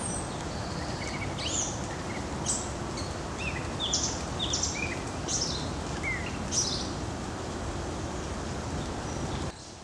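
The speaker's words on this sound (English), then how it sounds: "And the birds, you can hear the birds." Birds sing in trees along a sheltered windbreak, scattered chirps and short phrases dotted over a steady outdoor background hiss, fairly faint and somewhat distant.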